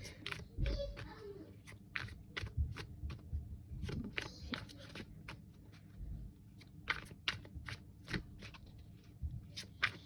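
Repeated soft riffling and flicking of tarot cards being shuffled close by, in quick irregular bursts, with faint low room noise underneath.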